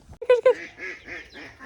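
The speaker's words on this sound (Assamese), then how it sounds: "বৰ্তমান হাঁহ 24-25টামান আছে" Ducks kept on a farm in Assam give a couple of sharp, loud quacks close by, followed by a few softer, lower calls in quick succession.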